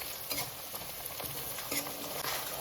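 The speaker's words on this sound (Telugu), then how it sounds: "ఇవన్నీ తాలింపులు వేసుకుందాం." Whole spices such as cardamom, star anise, cinnamon, cloves and bay leaf frying with onion in hot oil for jackfruit biryani, a steady close sizzle with occasional clinks and stirring scrapes.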